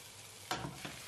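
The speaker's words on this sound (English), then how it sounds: "mix continuously the minced meat until it becomes brown" Minced beef frying in a pan with garlic, a faint steady sizzle with a couple of brief stirring scrapes, no talking.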